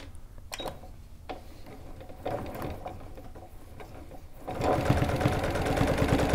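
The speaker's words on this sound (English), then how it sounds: "I'm going to do my first stitch on the chalk line" A sewing machine stitches cross-hatch quilting along a chalk line, running in short, soft bursts at first and then in a louder, continuous close-up whir.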